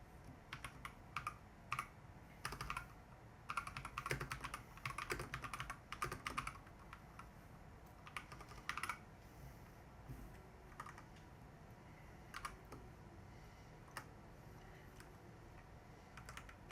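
Computer keyboard typing during a podcast recording, faint, with irregular clusters of quick key clicks and short pauses, and little else besides a low room hum.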